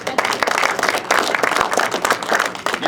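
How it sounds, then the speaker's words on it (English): An audience clapping during a political talk that mentions Governor Walker, a brief burst of close, uneven applause with sharp individual claps rising and falling over a few seconds. "you can clap"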